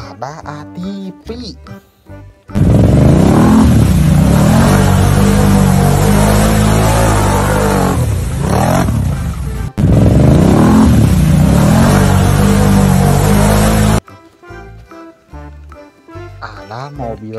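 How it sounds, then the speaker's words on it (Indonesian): An ATV engine revs loudly and roughly for about eleven seconds with a short break midway, between quieter background sounds at the start and end. "Ada ATV."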